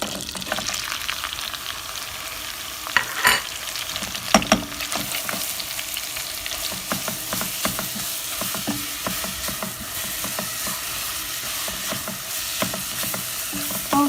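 Carrots sauté in a pan as the base for a vermicelli chicken soup, with a continuous close sizzle and occasional louder clicks and scrapes of stirring, no talk.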